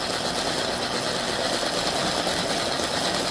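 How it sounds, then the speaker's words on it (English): Electric motors on a 474 model vehicle run at raised power, giving a steady, dense high-pitched buzzing whir that holds at an even level throughout with no talk. "Both sets of motors are turning."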